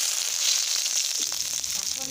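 Ginger is dropped into hot oil in a pan already holding nigella seeds and dried chilli, giving a bright sizzle that settles slightly after a second, with faint stirring clicks and no speech.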